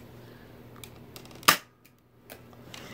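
A Nerf blaster fires a dart carrying paper money with the stock removed, giving a single sharp snap in the middle, then faint mechanical clicks before and after.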